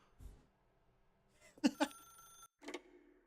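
A telephone in The Stanley Parable video game rings in a couple of bright metallic bursts, fairly close and clear, between quiet pauses with no talk.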